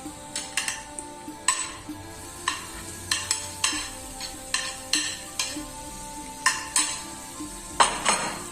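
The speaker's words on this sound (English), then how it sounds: "And we have to saute the onion till it becomes soft and transparent." Chopped onion sautés in oil in a pan for a penne pasta in white sauce, a soft sizzle under rhythmic, evenly spaced scraping strokes of a spoon, near and fairly quiet.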